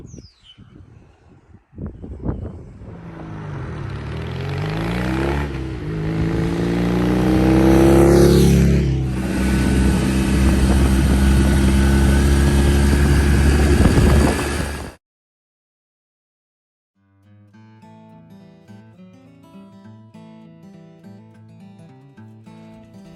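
A vintage motorcycle ridden on a camping trip roars loud and close, revving and climbing through gear changes for about fifteen seconds, then cuts off abruptly, followed by faint birdsong and quiet ambience.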